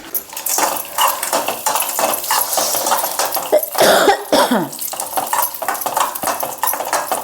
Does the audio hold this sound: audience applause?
no